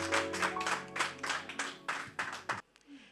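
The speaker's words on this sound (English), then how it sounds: "Clap hands for Jesus." In church, a congregation claps hands together in loud, rhythmic bursts, about nine strong beats over a sustained musical tone before the clapping stops abruptly.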